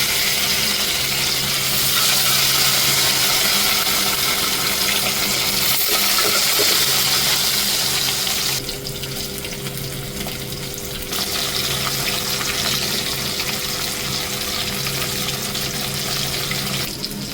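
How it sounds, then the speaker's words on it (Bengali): Poa fish frying in a pan of oil, a loud, continuous close sizzle with fine bubbling and crackle that dips slightly partway through and then carries on evenly, no voices. "এবার ওই তেলে বাকি মাছগুলো ভেজে নেব"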